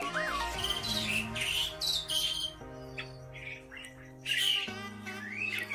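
Starlings squawk and chirp in a breeding aviary, harsh calls repeated over a steady tonal backdrop, close and fairly loud, with no voices.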